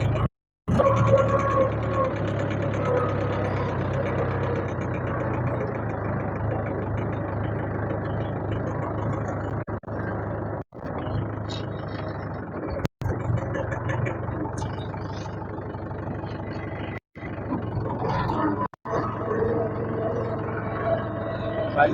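A 575 tractor engine runs steadily while being driven, a continuous low rumble and drone close to the microphone, briefly cut by a few abrupt dropouts.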